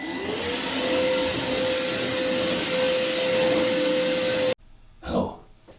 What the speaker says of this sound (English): How can they be hoovering?